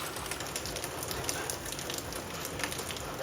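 Rain falling steadily on surfaces outdoors, a dense continuous patter with scattered drops, fairly close and even throughout, with no talk.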